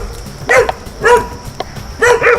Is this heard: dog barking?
yes